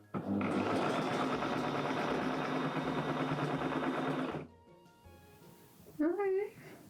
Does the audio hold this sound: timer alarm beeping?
no